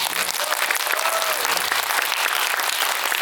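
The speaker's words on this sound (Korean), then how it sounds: "두 분의 우정에 한번 박수 한번 부탁드립니다" An audience applauds a film director and an actor in one dense, sustained wave of clapping that fills the room at an even, loud level.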